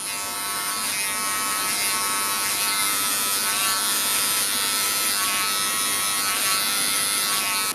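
Wahl hair clippers with a 1.5 guard blend hair at the crown, a loud, steady electric buzz running unbroken and close throughout, with no talking.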